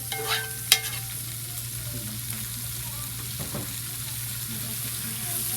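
Chicken and snake beans stir-frying in a hot pan, a loud continuous sizzle with a couple of sharp clanks as the chicken goes back in and gets tossed, close and steady.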